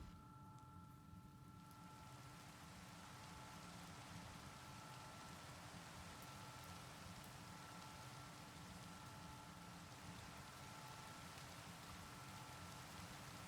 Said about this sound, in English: Why do I hear rain sounds in the middle of this cave?